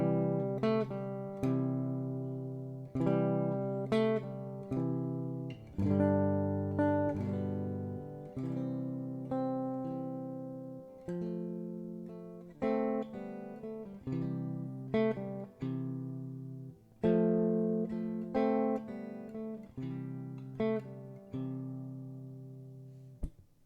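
Fingerstyle acoustic guitar playing Silent Night, parts one and two in sequence, gentle plucked chords and melody notes ringing out and decaying in a slow, steady waltz-like rhythm, close and clear with no voices.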